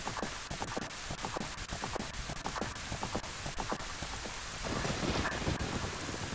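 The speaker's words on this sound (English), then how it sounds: "And look, more rain to make our game lag." Steady rain with crackling rumbles of thunder in a storm scene from The Legend of Zelda: Ocarina of Time, a dense continuous wash of patter that swells louder toward the end, with no voices.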